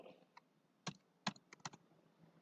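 Keys tapped on a computer keyboard while filling in a database form, coming as a few scattered, sharp clicks with short gaps between them, close by and fairly quiet, with no voices.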